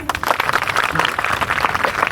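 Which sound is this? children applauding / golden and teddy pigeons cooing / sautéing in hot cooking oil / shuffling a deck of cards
children applauding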